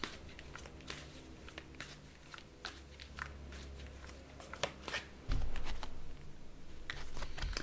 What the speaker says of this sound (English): I think sometimes just sitting shuffling is quite peaceful for me.